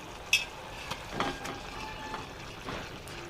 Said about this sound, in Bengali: ঝোলটা ফুটে গেছে, এবারে ঝোলের মধ্যে এই সমস্ত মাছ দিয়ে দিব।